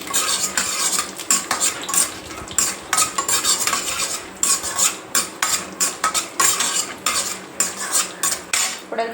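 Peanuts and dry red chillies frying in hot oil while a metal spoon scrapes and clatters rhythmically against the pan, loud and close, with a soft sizzle underneath and no voices.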